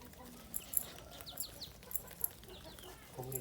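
A hen clucking among other fowl outdoors while being fed, with short, soft clucks and chirps repeating at irregular intervals over a faint ambient background.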